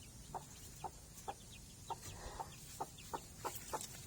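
Hen clucking near her black chicks in a backyard coop, a series of short, evenly spaced clucks repeated about nine times against a quiet, faint rural background.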